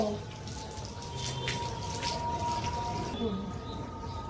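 Water splashes and trickles steadily while dogs are wetted down for a bath at home, a close, continuous pouring sound with a person speaking over it.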